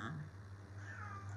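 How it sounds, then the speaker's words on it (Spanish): A cat gives a single short meow up close, followed by a low steady hum in the background. "qué maullidos, por Dios"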